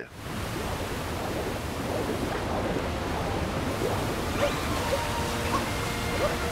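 Rushing water from a waterfall in the video game Super Mario Odyssey makes a loud, steady roar that runs through the whole passage, with faint chimes rising over it toward the end.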